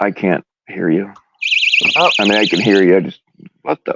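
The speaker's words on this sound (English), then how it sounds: "that was my alarm." A loud electronic alarm beeps in a fast warbling pulse for about a second and a half, between and under bursts of close conversation.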